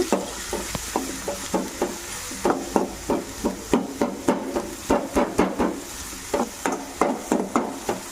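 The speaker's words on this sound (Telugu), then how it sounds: "ఒక మూడు మీడియం సైజ్ ఉల్లిపాయలను అయితే తీసుకొని అవి సన్నగా కట్ చేసుకొని ఈ ఆయిల్లో ఫ్రై చేసుకోవాలన్నమాట" Thinly sliced onions fry in hot oil while a spatula stirs in a quick rhythmic series of clattering scrapes against the pan over a continuous sizzle, close and clear with no talking.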